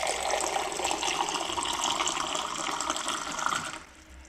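Chilled water pours from a Consul Facilite water purifier into a glass, a steady bright splashing gush that runs for several seconds, then tapers off near the end.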